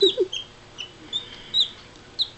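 Small parakeet chattering close by on a shoulder during hand-feeding, a handful of brief high chirps and squeaks scattered over a couple of seconds.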